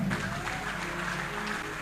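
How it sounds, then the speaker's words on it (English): Dense crowd clapping at a church service fills the moment, a continuous broadband patter with a voice faintly audible underneath. "Clap for wisdom."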